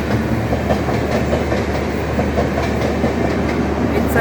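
A Jan Shatabdi Express overtakes on a Kolkata–Lucknow rail line, heard from aboard a moving train: a loud, steady rumble of wheels and carriages with faint clickety-clack, continuous and close throughout.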